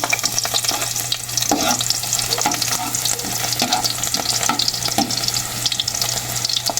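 Garlic fries in hot oil in a pan for squid adobo, producing a loud, continuous sizzle with a low steady hum under it and repeated scraping stirs, with nobody talking.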